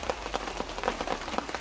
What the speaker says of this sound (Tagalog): Hindi pa malakas yung ulan tol